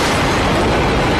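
A loud, sustained explosion roars through a burning building in a dubbed action film, filling about a second with dense, rumbling blast noise and no voices.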